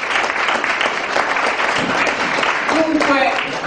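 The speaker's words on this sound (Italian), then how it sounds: "Quindi un applauso, perché stasera noi ospitiamo anche le donne" An audience at an evening cultural show claps in a sustained, dense patter of applause at moderate distance, with a voice talking over it near the end.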